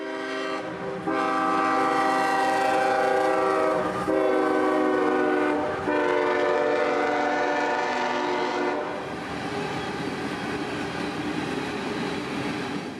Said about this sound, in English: that empty coal train appears and enters the scene just moments later